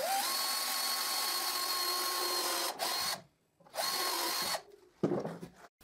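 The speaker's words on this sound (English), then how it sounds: "so I drill a guide hole." A power drill bores a guide hole into pallet wood for a garden chair repair, running in a steady high whine for almost three seconds, stopping, then a second shorter burst, followed by light handling noises.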